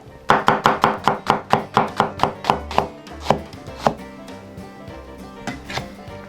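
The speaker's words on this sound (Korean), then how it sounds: "양파는 절반을 가늘게 채쳐주세요." A knife thinly slicing half an onion on a cutting board for laghman noodles: a quick, even run of crisp chops that slows into a few scattered, sharper strikes, close and clear with no talk.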